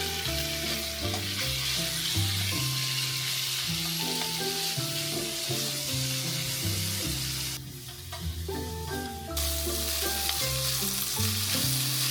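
Meat browns in a frying pan, a steady hissing sizzle that runs throughout beneath louder background music, with no talking.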